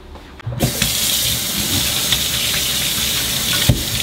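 A muddy red-heart fruit radish is rinsed under a kitchen tap, the running water starting abruptly and then splashing steadily and close, with a brief louder splatter near the end.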